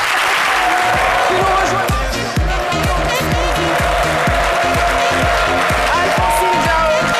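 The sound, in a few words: studio audience applause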